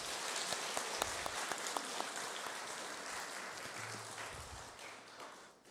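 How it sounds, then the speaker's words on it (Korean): Korean church congregation clapping during a Sunday worship service, a dense, fairly loud round of applause with a few sharp individual claps near the start, fading gradually toward the end, brief low voices underneath. "그럼 박수 한번 하실까요?"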